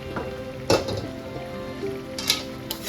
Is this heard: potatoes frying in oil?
yes